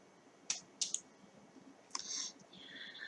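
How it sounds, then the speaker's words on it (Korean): Soft mouse clicks press the zoom 1:1 button in the PhotoScape X photo editor: a few sharp, quiet clicks, some in quick pairs, against a faint background hiss. "줌 1:1 버튼 클릭."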